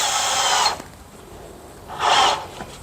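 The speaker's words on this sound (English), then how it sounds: "I'm going to start my screw where it needs to be and get it mostly drilled in" A power drill drives a screw during a toilet repair, with two close, loud whirring bursts separated by a brief quiet pause.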